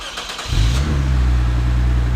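A car engine cranks and fires up, settling into a deep, loud, rumbling idle through a throaty exhaust, close by.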